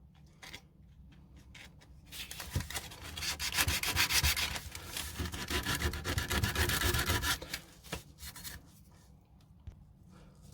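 Steady hand sanding of plastic with sandpaper in a circular motion, a rough scratchy rubbing that swells louder through the middle and tapers off, close up with no talking.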